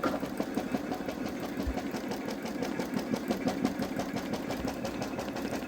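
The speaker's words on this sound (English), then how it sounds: "I'll feed it back into the machine for the final satin stitch around the whole thing" A Babylock Solaris embroidery machine stitching a satin border around a ribbon bow appliqué on a sweatshirt, a steady fast mechanical whirring and needle chatter running continuously, close and alone.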